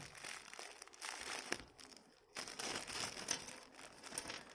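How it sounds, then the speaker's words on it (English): Close-up crinkling and crumpling of plastic with brief pauses, rustling bursts continuing steadily throughout. "Okay, let's get this bag open. I need to get some scissors and I'll cut the tape."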